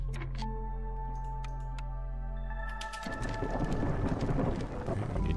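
Thunderstorm in the city-building game Against the Storm: a rumbling thunder-like swell under a sustained tonal drone, then a dense rush of heavy rain takes over midway, loud and steady.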